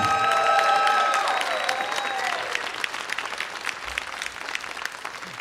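Comedy club audience at a stand-up night applauds a comedian, clapping and cheering strongly at first over fading stage music, then tapering into scattered, lighter claps.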